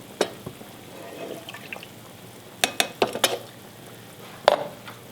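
Milk poured into a pan on an electric stove for macaroni cheese, with sharp clinks and knocks of the pan being handled, a scattered run of taps near the middle and a louder clatter near the end.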